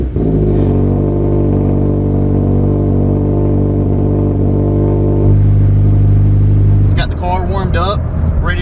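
A Toyota 86 boxer engine with a catted header revs steadily with a deep, loud rumble, the pitch holding then rising sharply near the end, with no talking over it.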